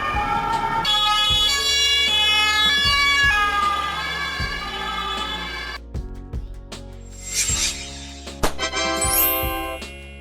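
A Luxembourg ambulance, a Mercedes-Benz Sprinter, Volkswagen Crafter or Peugeot Boxer, sounds a loud, close siren alternating between tones, then shifts to a different wail pattern while the engine rumbles beneath.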